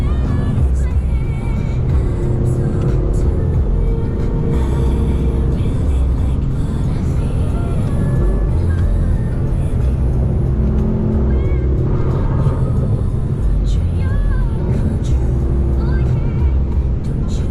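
A Lexus LC500 drives through highway traffic, its engine a steady rumble over road and wind noise that runs the whole way through with no break.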